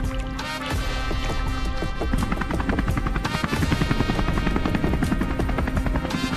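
A cartoon helicopter in a Hindi comedy sketch makes a continuous busy whirring racket with tonal layers and music-like elements, loud and unbroken for the whole stretch.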